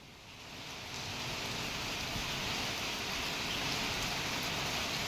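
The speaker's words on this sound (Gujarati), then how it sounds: "રાજુલા શહેર અને આસપાસના વિસ્તારમાં વરસાદ" Heavy rain falls over Rajula town in Amreli district, Gujarat, as a steady, even, broadband hiss that swells in the first second and then holds constant, with no voices.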